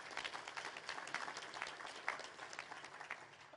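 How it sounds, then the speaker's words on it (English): An audience applauds steadily for the behind-the-scenes crew at a speaking event, with dense, continuous clapping throughout at moderate loudness and no voices. "how about a round of applause for all the people behind the scenes that are making all this happen today?"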